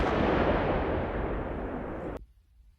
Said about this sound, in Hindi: यूक्रेन ने रशिया के BMP-3 टैंक को उड़ा दिया